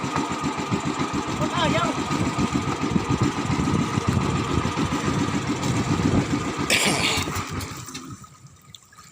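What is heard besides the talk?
boat engine running, then being switched off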